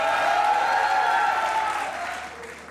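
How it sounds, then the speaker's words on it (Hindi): Moderate studio audience applause on a Pakistani comedy talk show, holding steady under a faint tonal background and then tapering off. "वो तालियां बजाएं"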